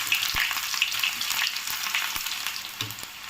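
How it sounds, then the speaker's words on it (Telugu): Onions fry in hot oil with tempering of cumin seeds and urad dal for gongura pappu. It is a soft, continuous sizzle with faint crackles and no talk. "ఇప్పుడు ఇందులోకి ఆనియన్స్ వేసుకుందాము."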